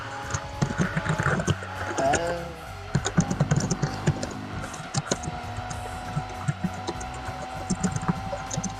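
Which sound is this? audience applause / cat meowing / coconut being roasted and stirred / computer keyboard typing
computer keyboard typing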